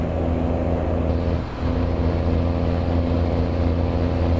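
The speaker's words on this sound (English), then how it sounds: "it just sounds like a previous engine mod, since it is the exact same sound the whole way" A heavy truck engine modded into American Truck Simulator drones at a steady, loud, unchanging pitch with a deep rumbling tone, holding the same note throughout apart from one brief dip.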